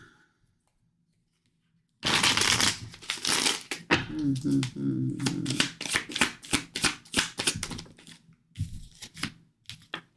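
Tarot cards are shuffled close to the microphone. The sound is a dense, crackling riffle that breaks into a rapid series of sharp flicks and slaps, then fades into softer handling.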